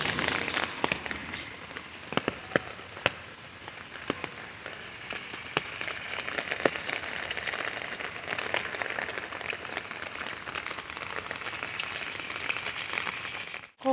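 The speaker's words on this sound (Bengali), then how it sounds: "কত বৃষ্টি হচ্ছে বৃষ্টি না মানে থামারই নাম নিচ্ছে না আজকে" Steady, dense rain pours down continuously, a broad hiss with scattered sharper drops tapping nearby surfaces throughout.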